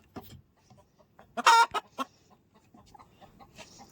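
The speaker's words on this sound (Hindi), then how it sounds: "एक मुर्गी निकल के बाहर को" A hen clucks in a short burst of loud, close calls, with quieter clucks and rustling before and after.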